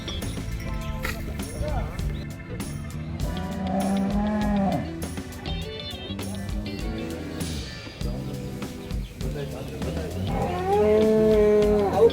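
Gir, Jersey and HF cows moo repeatedly at a cattle sale farm, long drawn-out calls near and mid-distance, with people talking in the background.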